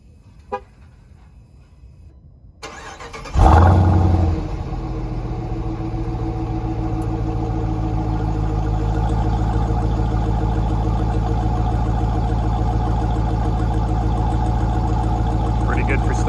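A Jeep Grand Cherokee Trackhawk SUV with a resonator delete and stock exhaust tips fires up with a loud, sharp rev flare. It then settles into a deep, steady, rumbling idle that runs on unbroken.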